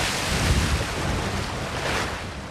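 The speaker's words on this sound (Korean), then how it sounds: "너울대는 파도에" Ocean waves and wind at sea off Malta around a boat in high Mediterranean swell, a steady loud wash of surf and buffeting wind noise across the whole stretch with no speech.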